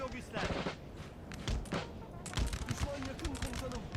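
Canister shot artillery and musket volleys in the Napoleon: Total War video game, fought around houses with grenadiers advancing down a street: repeated booming shots and crackling volleys in uneven bursts, moderately loud, with a voice talking under parts of it.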